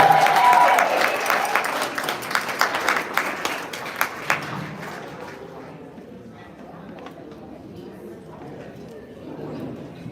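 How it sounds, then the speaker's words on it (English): Audience at an awards gala applauding honorees, a loud burst of clapping that swells at the start and gradually thins out over several seconds, with crowd chatter underneath as it fades. "Give the honorees a big round of applause."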